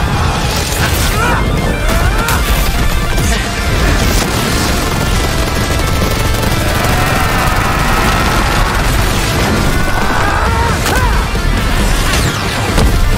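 The sun exploding in an animated Death Battle fight between Saitama and Popeye, heard as a loud, dense, sustained roar of booming crashes and rumbles that barely lets up for the whole stretch.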